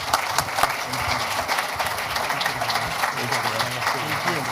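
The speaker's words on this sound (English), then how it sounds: "would you show some applause and appreciation for these members?" Audience applause and appreciation at a CPPAC 2026 gathering, a steady broad wash of clapping filling the room from start to finish, fairly loud and continuous with some voices mixed in.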